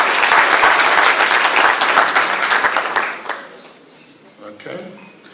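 A burst of enthusiastic audience clapping at a research colloquium rings out for about three seconds, then dies away, and a voice begins speaking.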